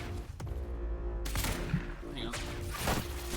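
Shotgun fire in the video game Quantum Break, a burst of heavy blasts and action noise layered with loud game effects and a brief voice, dense and continuous rather than cleanly separated shots.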